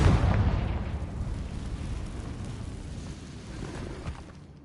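Confringo spell explosion in the Hogwarts Legacy video game, a booming blast that hits hard at the start and then rumbles away over a few seconds.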